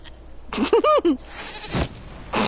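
A goat bleats in the Dragon Age video game, a short wavering cry of a few pulses over faint background game sound, with a burst of noise before and after.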